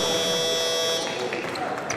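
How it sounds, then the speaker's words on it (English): A basketball halftime buzzer sounds loudly during a game for about a second, then gives way to crowd noise and arena ambience. "the halftime buzzer"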